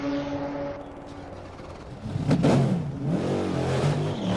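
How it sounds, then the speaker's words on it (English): A prototype race car's engine fires up in the pit lane at Petit Le Mans 2011, a sharp crank catching into a loud, close rev that settles into a rough, throbbing idle after a quieter steady hum. "his car's going to fire up, and he'll leave"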